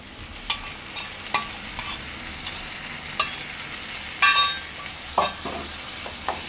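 Prawns and boiled, ground banana flower are stirred in a pan, giving scattered scraping clicks and clatters from the spatula over a soft, continuous frying sizzle.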